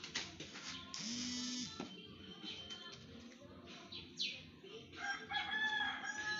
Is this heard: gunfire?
no